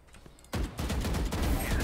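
Loud bursts of gunfire from a tactical shooter video game, starting abruptly after a quiet moment and carrying on as dense, rapid crackling shots that fill the rest of the moment.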